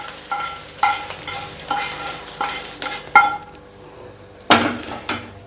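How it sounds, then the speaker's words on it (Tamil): Cooked rice being stirred and mixed into a hot pan for milk rice, with repeated scraping and clanking of a spoon against the pan in a steady rhythm, close and fairly loud, with one sharper knock near the end. "இப்போ இது சூடாக இருக்கும்போதே நம்ம வேக வச்ச சாதம் இருக்குல்ல, இதில் சேர்த்துக்கலாங்க"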